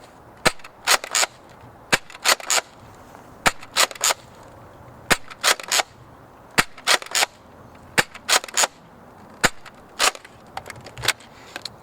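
A Nerf Doomlands 2169 Double-Dealer blaster fires foam darts in sharp, snappy pops, often in quick pairs, repeated around two dozen times at close range in otherwise quiet surroundings.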